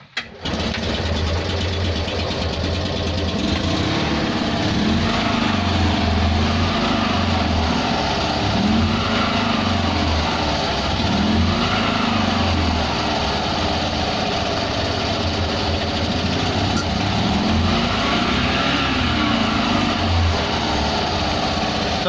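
Invacar three-wheeled invalid carriage, its small engine running steadily at raised revs with a dyno start charging, loud and close, a continuous droning throb that swells slightly without any voices.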